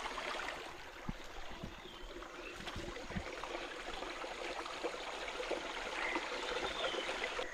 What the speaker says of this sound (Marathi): वाहत काय ना पाणी